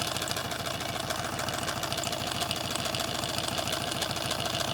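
A homemade Stirling engine runs steadily at a modest speed, giving a continuous mechanical chatter with a fast, even repeating tick throughout, close and unbroken with no talking.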